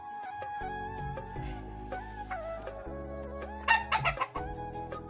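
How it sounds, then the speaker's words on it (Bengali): Farm hens that have only just begun laying give off clucking calls among steady tonal sounds, with a louder, busier flurry of clucks near the end. "দেখো এই মুরগি কটা আমাদের মুরগিগুলো এখনও সবগুলো ডিম পাড়ানো শুরু করেনি"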